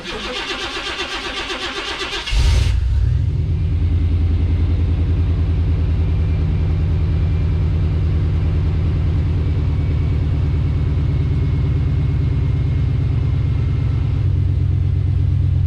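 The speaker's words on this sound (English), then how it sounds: "Let's start her up and see how she sounds." A starter cranks briefly, then the V8 of a 1991 Chevy Silverado pickup fires and settles into a deep, loud, steady idle rumble that continues.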